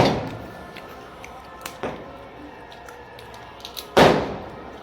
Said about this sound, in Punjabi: ਪਟਾਕੇ ਵੱਜ ਰਿਹਾ ਬੰਬ ਵੱਜ ਰਿਹਾ